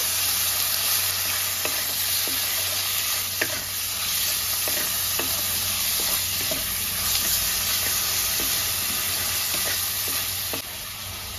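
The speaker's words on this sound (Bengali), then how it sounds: "আমি চিকেন আর পেঁয়াজটা একটু ভাজা ভাজা করে নেব।" Marinated chicken and chopped onion fry in a pan, a steady loud sizzle with scattered stirring clatter throughout, no talk.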